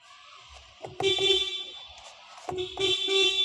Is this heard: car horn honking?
yes